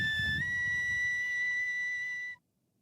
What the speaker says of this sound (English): That's not a drum. That's a flute.